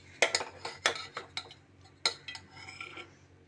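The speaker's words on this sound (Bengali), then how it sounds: "আমি গ্যাসটা অফ করে আমি একটা পাত্র মতো নামিয়ে নেব" A metal cooking pot holding chicken is lifted off a gas stove that has just been shut off, with a cluster of close clanks and metallic clinks, a few sharp hits then lighter scrapes.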